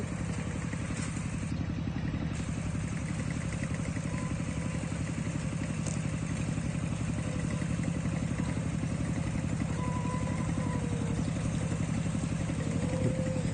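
A heavy farm tractor engine idles and chugs steadily throughout, with a low rumbling clatter and no break.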